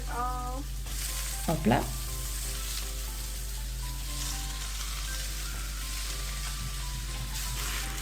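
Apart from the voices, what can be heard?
hydrated noodles sizzling in a pan for pad thai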